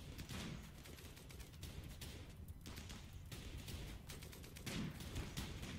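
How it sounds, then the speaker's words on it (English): Gunfire in the colony game RimWorld comes as irregular bursts of sharp shots, with several clustered volleys at moderate level over a low background. "get your parting shots in"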